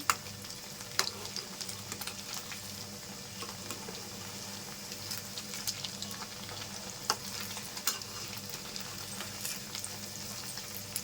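Paneer 65 cubes fry in oil in a pan, a continuous moderate sizzle with scattered crackles and light stirring taps, no voices.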